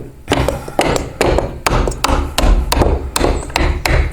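A small screwdriver is tapped against the bottom of a door hinge pin to knock it out, giving about ten sharp, fairly loud metallic taps in a quick, slightly uneven rhythm, close by and without speech.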